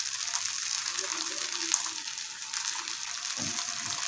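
Coconut poli cooking on a hot pan gives a soft, steady sizzle, with brief low rustles as it is handled and turned.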